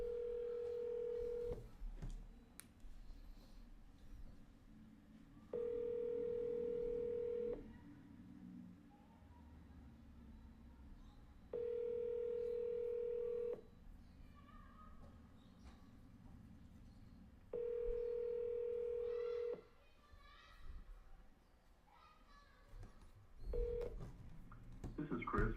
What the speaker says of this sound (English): I'm going to just call him again.